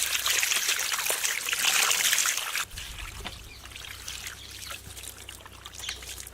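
Water pours from a pitcher in India, a loud, splashing stream at first that thins to a softer trickle, with faint background noise and no talking.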